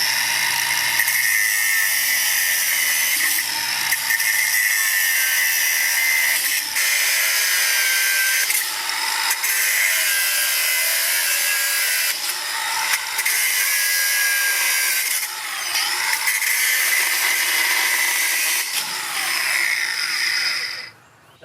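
An angle grinder whines at high pitch while cutting trellis wire for a gothic arch garden trellis, running close and loud with repeated short dips and surges as each wire is cut through, and no talking.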